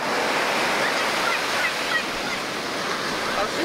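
Steady broadband rush of ocean surf breaking along a beach, continuous and fairly loud throughout with no clear pauses.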